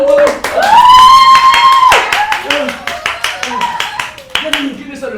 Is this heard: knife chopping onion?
no